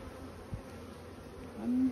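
Honeybees on a brood frame pulled from a beehive give a soft, steady low hum that runs the whole time, with a faint thump partway through and the drone swelling slightly toward the end.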